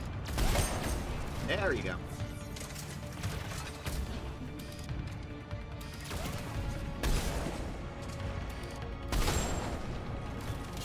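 Bursts of gunfire from weapons in Mass Effect 3 crack and rattle in irregular volleys amid a busy battle din, with someone talking over the shots.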